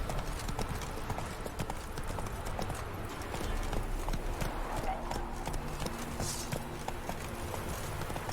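Horse hooves clip-clopping in The Witcher 3 video game, a steady rhythmic trot with game background sound and someone talking over it.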